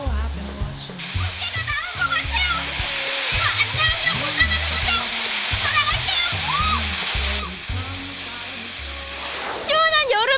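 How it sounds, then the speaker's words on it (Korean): A steady roar of falling water at Sullak Falls in Gurye, South Korea, fills the clip, with people talking and shouting excitedly over it. "시원한 여름을 책임진다는 수락폭포."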